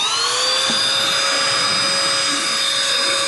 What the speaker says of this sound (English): Does that vacuum even work?